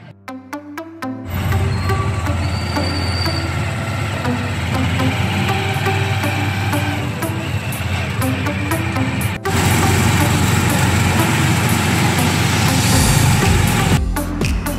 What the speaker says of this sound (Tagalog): dito tayo sasakay ng tricycle